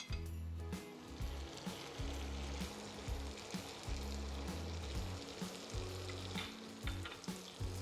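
Diced bacon and diced onion fry in melted butter in a pan, sizzling steadily and loudly up close, with repeated stirring scrapes and no talk.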